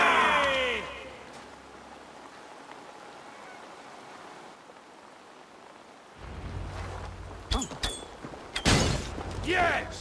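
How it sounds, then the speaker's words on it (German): In Assassin's Creed Valhalla, a quiet stretch of low rumbling gives way to a burst of loud, broadband explosive blasts and crackling debris, with a few sharp hits near the end. "Und spektakuläre Explosion?"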